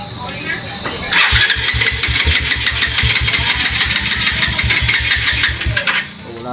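A Kawasaki Rouser NS 150 motorcycle engine cranks and fires into a rapid, throbbing idle close by, running steadily for several seconds before cutting out, with a voice speaking over it.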